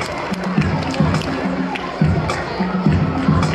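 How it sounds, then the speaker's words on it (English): Crowd at a junior performance at a world championship event, clapping and cheering in repeated bursts roughly every second, loud and close with voices mixed in. "Big round of applause, please, for having Extravaganza."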